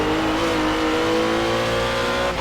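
A GT4 race car in Project CARS holds a loud, steady engine drone with a shift into second gear, the pitch dipping near the end, close and continuous without talk.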